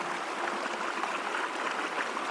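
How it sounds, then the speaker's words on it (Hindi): Mountain stream in Kumrat Valley, Pakistan, in winter, where water is being collected for tea: a close, steady rush of flowing water with no voices over it. "तो यहाँ पे आप देख सकते हैं पानी कुछ इस तरह से गुजर रहा है"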